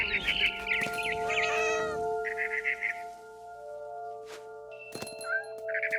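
A cat meows in the video game What Remains of Edith Finch, repeated short, bright cries over sustained musical tones, with bird chirps and a few sharp clicks later on.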